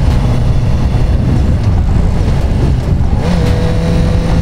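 Honda CBR 1000 RR four-cylinder motorcycle accelerating, a loud, steady engine roar close by that fills the whole clip without a break.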